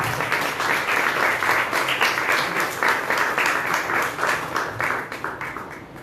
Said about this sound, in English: Can we have a clap?